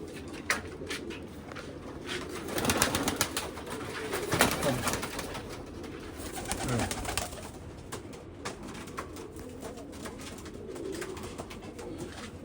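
Jamuni pigeons, including a male, coo in low repeated phrases in a loft, with scattered sharp patters and scuffs of movement around them.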